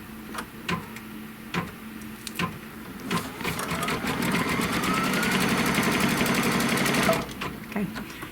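An embroidery machine stitching an applique placement line: a few isolated clacks, then a fast, steady mechanical stitching rattle for several seconds, close and fairly loud, ending with more single clicks.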